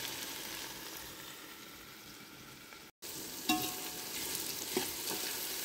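Tomatoes frying and being stirred in a pot while mutton biryani is cooked, a quiet steady sizzle with a brief cut partway and occasional close spoon scrapes against the pot; no voices.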